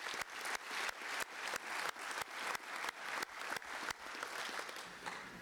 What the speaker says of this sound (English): So a big round of applause for the moderators and the presenters.